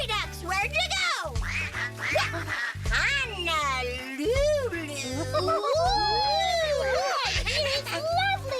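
Voices imitate fairy ducks quacking, a string of exaggerated nasal quacks over a steady backing melody, mixed with playful high-pitched vocal sounds that sound like a children's show.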